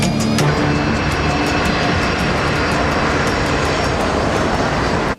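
An airliner's engines roar in a steady, loud, continuous broadband rumble with a faint high whine on top. The sound holds at a constant level and cuts off abruptly at the end.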